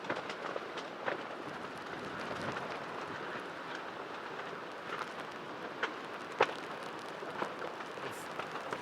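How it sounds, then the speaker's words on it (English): Hurricane Milton wind roaring across a shredded roof in Tampa Bay, a steady dense whooshing rush with occasional thumps and rattles of loose debris, continuous and moderately loud with no voices. "Just take a listen as the wind continues to rip across it."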